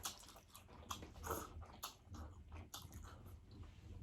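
Japanese osechi New Year food, dipped in sauce, is chewed close up with soft, irregular biting and crunching sounds and no talking.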